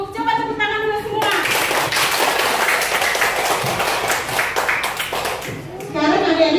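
A group of children clap their hands together in a lively, dense burst lasting several seconds, with an adult voice speaking just before and after the clapping.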